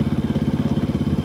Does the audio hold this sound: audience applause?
no